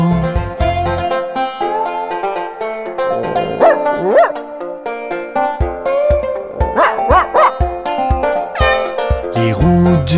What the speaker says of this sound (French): Le chien dans le bus fait wouf wouf wouf